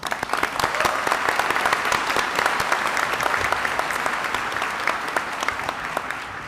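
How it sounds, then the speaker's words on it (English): Steady applause from a commencement ceremony audience, many hands clapping continuously at even volume throughout, with no pauses. "I'm going to applaud you for that"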